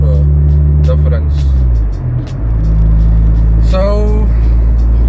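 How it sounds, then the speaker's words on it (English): A Honda Ballade EG8 180i's non-VTEC B20B8 engine hums steadily from inside the car, with a low rumble that dips briefly and then rises again as it keeps driving. "I hope the car's engine noise doesn't make too much of a difference"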